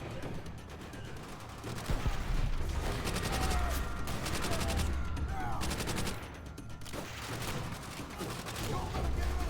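MG machine gun in Call of Duty: World at War rattling off sustained bursts across a noisy battlefield mix, rapid repeated cracks with short pauses, loud and continuous.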